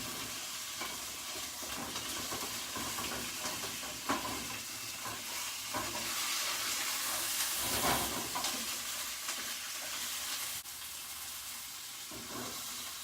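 Meat sears in a hot pan with a loud, steady sizzle and hiss, with occasional scrapes and stirring bumps as it is moved around, close and without talk.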